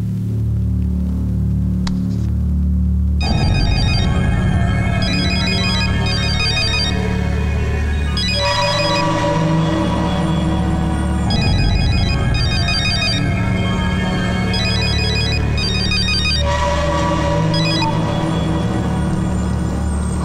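A telephone rings in a Telugu film scene, a loud electronic ringtone repeating in regular bursts every few seconds over a steady low hum, with no talking.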